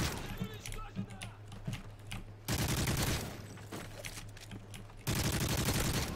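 Call of Duty: Modern Warfare 3 gunfire comes in bursts and dense rapid volleys from an online match, set against a constant background hum with a player talking at times.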